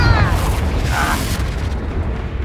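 A Confringo fire spell from Hogwarts Legacy erupts as a loud, sustained booming blast, its rumble continuing without a break through the whole moment.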